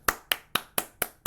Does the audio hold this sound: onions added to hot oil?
no